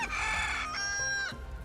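Chickens cluck and crow briefly in the video game Final Fantasy 7 Rebirth, a few short fowl calls heard close and fairly clear over a soft game background.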